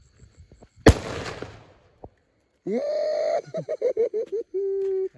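At a New Year celebration, a single sharp firecracker bang with a crackling tail, followed by a faint pop, then loud honking horn-like blasts in short bursts.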